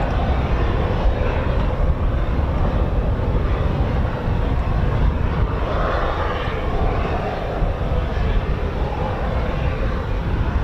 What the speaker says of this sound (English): These are the part of the MH-47Gs, a type of Chinook that's special forces. It's coming out now.